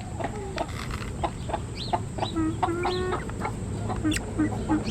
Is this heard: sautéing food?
no